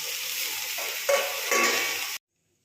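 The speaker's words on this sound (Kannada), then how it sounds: "ಈಗ ಅದನ್ನು ಫ್ರೈ ಮಾಡ್ತಾಯಿದ್ದೀನಿ ಒಗ್ಗರಣೆ." Spices for a palak (spinach) sambar tempering fry and sizzle steadily in a pan, close and fairly loud, with brief stirring scrapes before cutting off abruptly.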